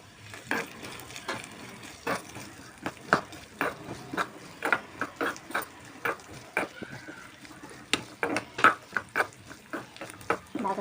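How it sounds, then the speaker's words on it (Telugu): Coconut, almonds, raisins and dal frying in oil as a spoon stirs and scrapes the pan in quick, repeated clinks and scuffs, fairly soft and close, with no voices. "కొద్దిగా టెంకాయ, బాదం పప్పు, కిస్మిస్, మళ్ళీ మొట్టమొదటి పప్పు వేసుకొని బాగా వేయించుకుందాం"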